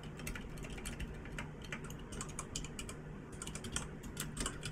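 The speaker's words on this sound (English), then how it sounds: "I'll just type that in by hand" Quick bursts of typing on a computer keyboard, close and quiet, clicking keys in irregular clusters with short pauses, no talking.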